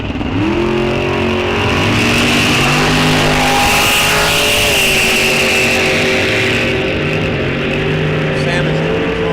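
Bracket drag race cars at Rock Falls Raceway roar loudly down the strip, a sustained, dense engine howl with rising harmonic tones throughout, with a commentator talking over the racket.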